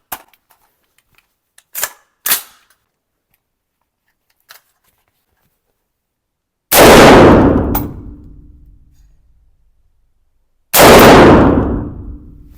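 A TISAS ZPT 556 rifle fires green tip rounds at a shooting range: two very loud, sharp blasts about four seconds apart, each ringing off into a long fading echo, preceded by faint metallic clicks of handling.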